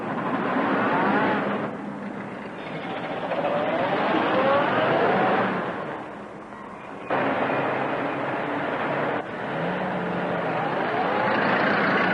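A car drives off in a 1934 film, its engine and road noise forming a steady, fairly loud roar for about twelve seconds, with a dip near the middle and a few abrupt shifts, with no one talking.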